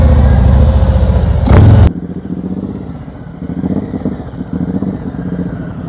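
A motorcycle engine idles and putters through slow-speed riding practice, loud and close for the first two seconds, then dropping to a lower, uneven running sound with small throttle blips.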